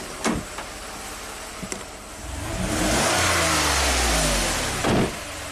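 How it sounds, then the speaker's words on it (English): A 427k-mile Toyota engine with a lean fault, idling then revved once, rising to a sustained loud roar before dropping back, with a few clicks and knocks around it and no talking. "I'm going to rev it up once"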